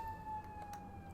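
A steady siren tone from an emergency vehicle passing near a streamer's room during an Elden Ring session. It holds one sustained pitch at low-to-moderate level, broken by a few faint clicks.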